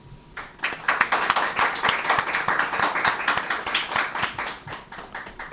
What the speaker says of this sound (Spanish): Damos la bienvenida a Javier con un aplauso